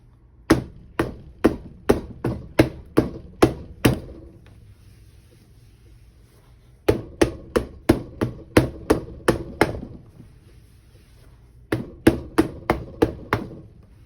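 A plaster casting mold tapped repeatedly to drive out air bubbles, sharp close knocks in three quick bursts of about eight to ten taps each, separated by short pauses.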